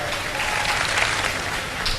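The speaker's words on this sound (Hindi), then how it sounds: "बहुत सारी तालियां।" A studio audience on a live iftar game show bursts into applause, a dense, even wash of clapping at moderate loudness, with a brief swell near the end and no voices over it.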